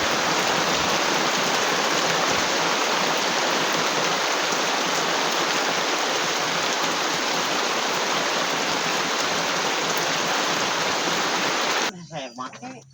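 Heavy rain pours down during a fishing outing, a loud, dense, unbroken hiss of drops striking surfaces close by, ending abruptly near the end.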